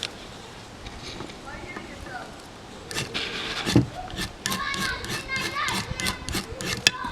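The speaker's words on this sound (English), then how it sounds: "that's my neighbor's kids playing next door." Neighbour's children playing next door, their distant shouts and chatter carrying faintly over an outdoor background, with a brief thud and scattered clicks partway through.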